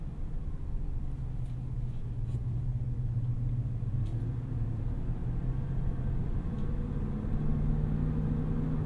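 Steady low rumble of a 2023 Chevrolet Silverado 1500 ZR2 Bison on 33-inch off-road tires rolling along, a continuous droning road noise with engine hum underneath, fairly loud and unbroken throughout.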